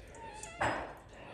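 A green-eyed, white-hooded, pink-nosed cat outdoors in winter snow gives one short, fairly loud meow partway through, with faint background noise around it.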